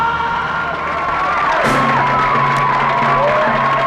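A crowd in a movie scene cheers and whoops loudly throughout, a dense roar of voices with shouts rising over it.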